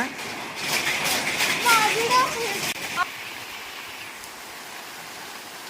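Broad hiss of sudden heavy rain pouring down nearby on roof sheets, loud at first then easing, with children's voices talking over it.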